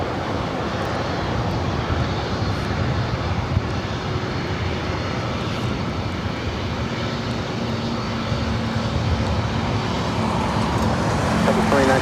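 A fixed-wing airliner lands on runway 24 right at LAX, its broad, steady roar of jet engines filling the whole span without letup, with faint radio chatter and distant traffic underneath.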